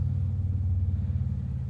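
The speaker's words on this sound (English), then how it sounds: "aside from the traffic noise that you hear" Steady road traffic noise from passing cars, a continuous low rumble of engines and tyres that stays loud and even throughout with no talking.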